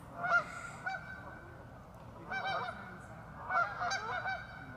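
Canada geese on the water give a few honking calls in scattered bursts, fairly faint and at a middle distance, with quiet outdoor ambience between the calls.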